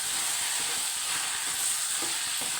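Capsicum sizzling in a pan with turmeric and garam masala as it is stirred, giving a steady hissing fry with soft scraping strokes of a spoon.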